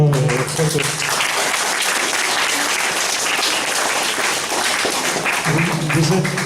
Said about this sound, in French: Donc on faut applaudir quand même.